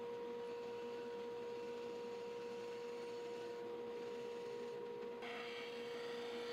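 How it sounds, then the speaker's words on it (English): A bandsaw runs with a steady, droning whine while cutting a curve in a wooden template piece, its tone shifting and a brighter rasp entering near the end as the blade works through the wood. "Take it over to the bandsaw, get it close."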